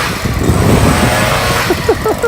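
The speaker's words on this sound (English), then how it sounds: "Double fisting it with blowers." Two leaf blowers run at once outdoors while mulching, producing a loud, steady engine drone that fills the clip, with a few brief rising whines near the end.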